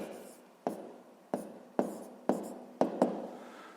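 Pen writing on paper during a sixth-grade math exercise: a series of sharp tapping strokes about every half second, each followed by brief scratchy scribbling, close and fairly quiet with no talk.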